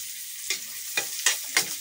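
Browned garlic sizzles in a pan as tomato and ginger are added, giving a steady frying hiss broken by four quick stirring scrapes, close and clear with no speech.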